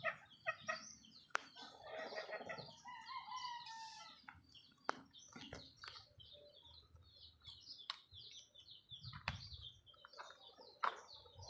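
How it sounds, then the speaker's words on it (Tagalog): Two fighting roosters, one with very sharp spurs, give repeated clucks and calls amid sharp scuffling and flapping bursts, fairly close and moderately loud, with no voices. "yung dalawang manok natin na nagpang-abot"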